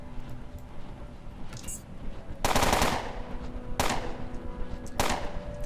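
Three sharp bursts of 7.62 SMG gunfire from the video game Underrail, each a loud rapid rattle that decays quickly, spaced a little over a second apart over a faint ambient background.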